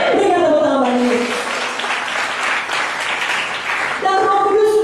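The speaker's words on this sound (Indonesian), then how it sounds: "Berikan tepuk tangan bagi Yesus." A church congregation at a seminar in Pekanbaru claps together in a dense, steady wash of applause, with a voice speaking over it at the start and again near the end.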